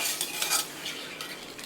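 A spoon stirs crab gravy in a pan on the stove, giving a steady scraping and light sizzling that runs close and continuous for the whole stretch, with no talking.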